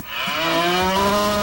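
A single loud, close cow moo rises and holds for about a second and a half, a long drawn-out lowing call standing alone.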